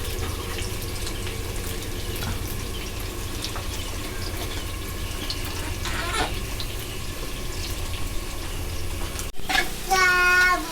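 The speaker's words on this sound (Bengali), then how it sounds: "পুরো লাল লাল করে আলু ভাজা হচ্ছে" Potatoes frying in oil over an outdoor wood fire, a dense continuous hiss and bubbling that holds steady throughout, with a few faint clinks and a brief tonal chirp near the end.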